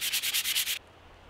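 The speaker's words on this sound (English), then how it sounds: "I decided we're just gonna sand this" Sandpaper rubs briskly over a wooden axe handle in about six quick back-and-forth strokes, close and clear, then stops into quiet room tone.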